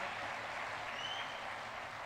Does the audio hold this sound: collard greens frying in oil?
no